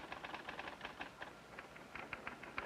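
An office typewriter clacks in quick, uneven bursts of keystrokes, faint and alone.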